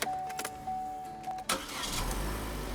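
A Vauxhall Astra's starter motor cranks with a whirring churn, then the engine catches and settles into a steady, rumbling idle.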